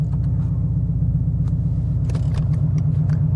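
A car drives along a road with a constant loud, low rumble of engine and tyre noise throughout, a few faint clicks and rattles riding on top, and no one talking.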